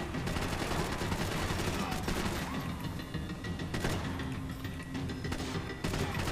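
Rapid automatic gunfire in the video game Max Payne 3 fills the clip as a dense, continuous barrage of loud shots with crashing impacts. A voice can be heard faintly beneath the shooting.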